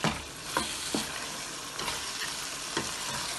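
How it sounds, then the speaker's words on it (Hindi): Minced meat (qeema) sizzles softly in a pan while a spoon scrapes and stirs it every second or so, with a steady, fairly faint frying hiss underneath. "और भूनेंगे। देखिए अंदर तक हो गया है।"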